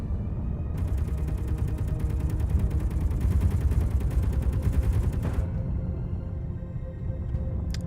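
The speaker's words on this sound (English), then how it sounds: "There you go, turrets. Get them." Automated turrets blast at incoming meteors in the Space Engineers video game: a rapid, continuous stream of machine-gun fire, loud and close, rattles for about five seconds and then cuts off, leaving a low rumble with a few faint clicks.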